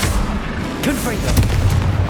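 A Confringo fire spell explodes in Hogwarts Legacy with a booming, rumbling blast, and a voice can be heard over the low crash.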